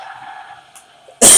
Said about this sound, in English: I want to get back to what's going on with the whole coughing thing.